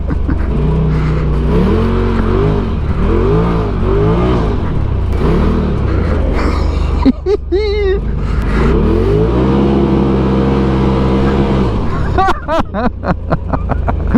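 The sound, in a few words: Polaris RZR Turbo R engine revving, drifting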